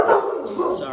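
Indoor dogs barking, a burst of loud, close, sharp barks and yips in quick succession.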